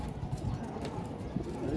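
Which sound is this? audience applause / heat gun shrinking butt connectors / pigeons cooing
pigeons cooing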